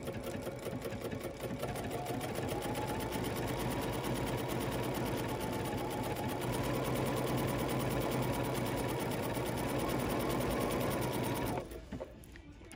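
A Bernina 880 Plus sewing machine stitches grey thread in a steady, fast, even whir with rhythmic needle ticking, close and loud for about eleven seconds before it abruptly stops.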